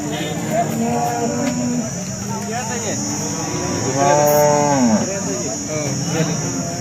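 A cow moos several times at a cattle market in Sangola, long low drawn-out calls with a louder one near the end, over steady background hum.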